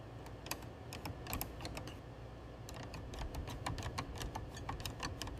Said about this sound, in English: The keyboard begins coming back together.